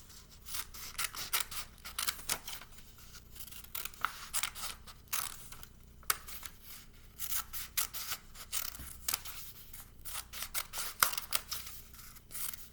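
Scissors cutting paper close up, with a run of short, crisp snips in irregular bursts and brief pauses, and no talking.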